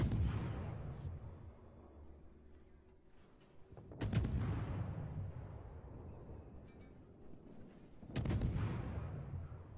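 Warship guns firing in a naval battle game: three heavy, booming salvos roughly four seconds apart, each a sudden blast followed by a long rumbling decay, over a low steady background rumble.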